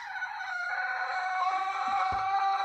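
Hens in a henhouse give steady, melodic clucking and crooning calls close by, layered and continuous, with a few soft thumps of movement near the end and no talking.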